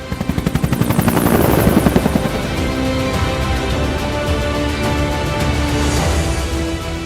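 A firefighting aircraft passes loudly overhead; fast rhythmic rotor thumps grow to a peak, then fade into a steady droning whir. No voices.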